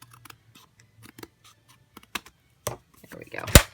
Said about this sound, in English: I'm just going to go back and retrim this with my scissors real quick.